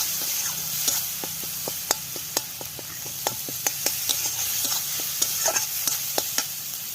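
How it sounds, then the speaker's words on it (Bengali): Tomato gravy for koi fish cooks in a pan with a soft, constant sizzle. A spoon taps and scrapes the pan in quick, irregular clicks as it stirs, close and fairly quiet. "টমেটোটাকে ভালো করে একদম পুরো গলিয়ে একদম পুরো গ্রেভিটাকে পুরো গাঢ় করে নিতে হবে।"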